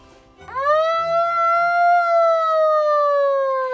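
A single siren at an early-morning camp wake-up wails up sharply and holds a steady, loud, pure tone that slowly sags in pitch, with no voices.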